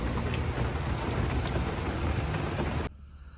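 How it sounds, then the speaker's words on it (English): Heavy rain pours down outside in a loud, dense hiss of drops before cutting off abruptly near the end. "as you can hear, it's pouring down rain"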